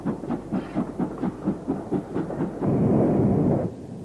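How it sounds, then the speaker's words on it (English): A Castle class steam locomotive at Snow Hill on a snowy day chuffs in a steady rhythm of about a dozen exhaust beats, then gives way to a louder sustained roar of steam near the end. "Also at Snow Hill on a snowy day was this Castle class locomotive."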